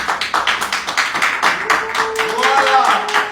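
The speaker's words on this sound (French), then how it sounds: "Mabio, s'il vous plaît, on applaudit." Audience clapping at a live grand-finale show, a steady patter of many hands running loud from start to end, with other sounds rising partway through.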